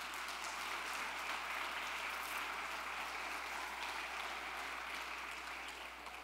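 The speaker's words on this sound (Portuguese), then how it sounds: "Pode aplaudir." A church congregation applauding together, a dense, steady wash of clapping that holds at an even level for several seconds without a break.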